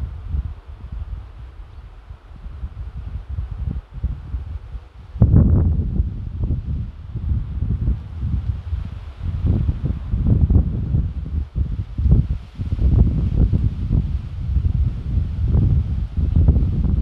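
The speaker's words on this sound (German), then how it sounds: "Wieder so ein paar Windböen rein." Storm wind from ex-hurricane Kirk in Saxony roars outdoors, a low steady rumble that jumps louder after a few seconds as repeated gusts buffet the microphone in uneven bursts.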